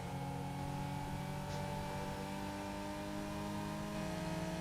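Porsche 996 Turbo engine in the Need for Speed Porsche Unleashed racing game, droning at a steady held pitch throughout a hillclimb race.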